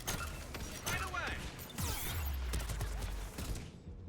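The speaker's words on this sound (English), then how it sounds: "AA guns ahead of us." Anti-aircraft gun batteries fire in the Mass Effect 3 video game as dense, continuous booming bursts and clattering mechanical noise, with a low rumble swelling in the middle and fading toward the end.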